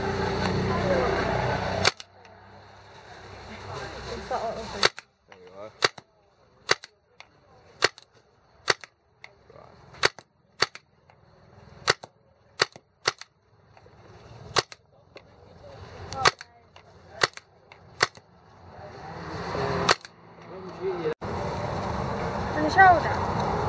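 Gas-powered guns fire a series of sharp, loud shots, about a dozen spaced one to two seconds apart, between stretches of wind and outdoor noise, with people talking.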